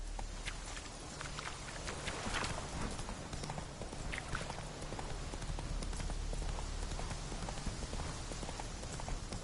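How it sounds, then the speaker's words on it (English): Horse hooves galloping in The Witcher 3 video game, a continuous rapid clip-clop of hoofbeats over a dense, rain-like wash of ambient noise, steady and fairly loud throughout. "Come on, Roach. Go, go"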